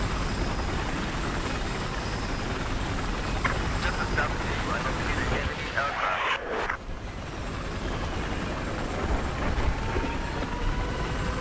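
A jet aircraft in the Battlefield 4 video game, on the Altai Range map during a conquest match, sweeps past with a broad engine roar that swells and dips through the mix, under game noise and a talking player.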